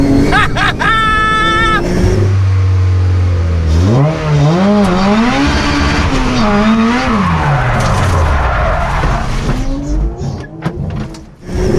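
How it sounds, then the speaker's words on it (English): An 800 hp Nissan R34 Skyline and a K20-powered Mini launch in a drag race, with an engine revving hard, climbing through several gear changes and tires squealing, loud and close while people shout excitedly over it. "this drag racing's fun!"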